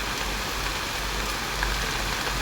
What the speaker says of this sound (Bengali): বৃষ্টি শুরু হয়েছে, অনেক বৃষ্টি হইতেছে